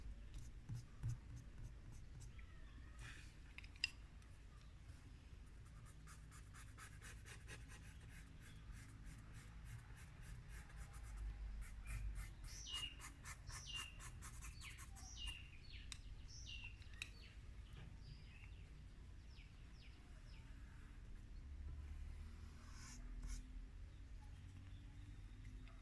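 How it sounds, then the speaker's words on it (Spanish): Charcoal drawn across paper to trace the margin of a bird illustration, giving steady scratchy strokes that run throughout, with birds chirping faintly in the background. "Aquí le estamos dibujando el margen"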